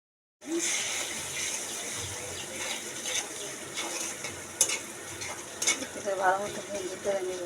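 Onions frying and being stirred in a pan for a morning egg recipe, a steady sizzle with clinks and scraping from stirring, under a continuous wash of sound.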